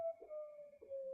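A South American bird in a nature reserve gives a faint, steady, drawn-out tonal call, a single sustained note with slight breaks, heard alone at a distance.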